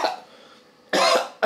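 A man coughs close by, with one harsh burst and a second short cough right after it. Softer throat noise comes just before.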